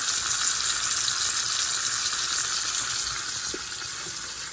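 Browned roast beef sizzles in a pan with a steady, bright crackling hiss that softens slightly toward the end, close and uninterrupted by voices.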